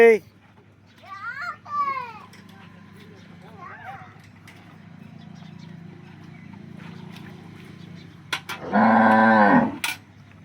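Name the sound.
cow being milked, lowing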